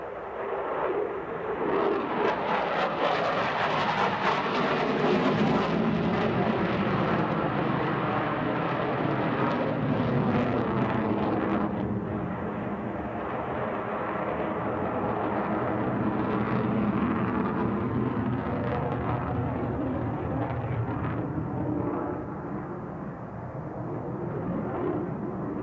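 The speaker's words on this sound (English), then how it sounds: "watch as Plattles sets a maximum performance pull into the vertical, followed by negative 2G pushover to level flight" An aerobatic airplane at the SUN 'n FUN airshow pulling into a vertical climb, its loud engine roar swelling and shifting in pitch as it passes, then fading slightly before rising again.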